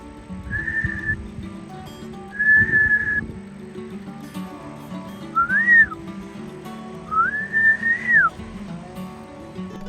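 Someone with a swollen lip attempts to whistle, producing four short, thin, wavering tones with pauses between them, some rising and falling, over low background noise.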